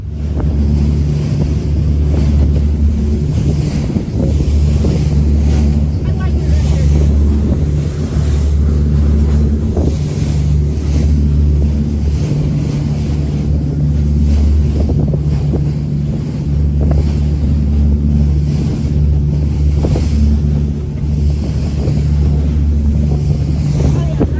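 A boat motors steadily across open water off Kona, Big Island, Hawaii, returning to shore after a manta ray dive, with constant engine drone, wind buffeting the microphone and splashing waves throughout.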